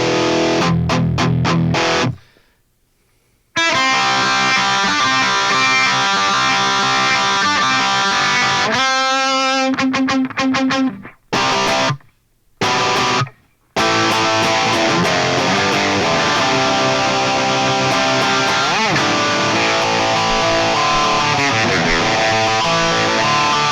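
Heavily distorted electric guitar run through a Line 6 Helix into a Mesa 4x12 cabinet with V30 speakers, loud chugging chords broken by a few abrupt stops near the start, then sustained thick strumming to the end.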